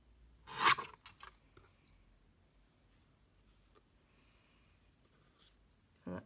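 Scissors trim a small mat for a notebook cover, giving a couple of quick close snips near the start, then a long quiet stretch with faint rubbing and one more brief cut at the end.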